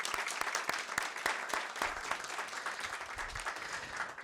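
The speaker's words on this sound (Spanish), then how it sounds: "Gracias, un aplauso." A burst of applause from an audience at a book launch, dense overlapping claps held at a steady level for a few seconds.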